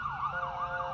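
Emergency vehicle siren wailing in the background in California, a faint, steady up-and-down electronic wail sweeping rhythmically, distant and alone.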